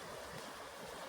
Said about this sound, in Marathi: मोठ्या प्रमाणात विसर्ग चालू आहे सांडव्यातून